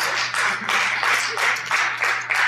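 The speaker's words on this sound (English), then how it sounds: "another reason to give him applause" Audience applause at an industry association event, a dense, steady wash of hand claps in pulsing waves that stays loud for the whole stretch, with no talking over it.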